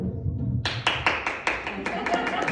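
One person clapping at a stand-up comedy show, about a dozen sharp, fairly loud claps in a quick uneven rhythm, with low crowd murmur beneath and no other hands joining in.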